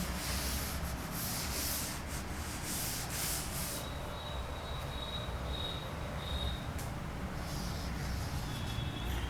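In a maths class, a teacher rubs writing off a board with quick repeated scrubbing strokes, then softer rubbing. The strokes are close and steady, and no one speaks.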